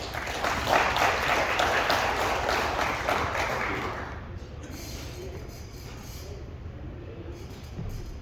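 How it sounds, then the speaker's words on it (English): A theater audience at the historic Constantine Theater in Pawhuska, Oklahoma, gives a dense round of applause that lasts about four seconds, then thins into a murmur of low room noise. "Please give him a round of applause."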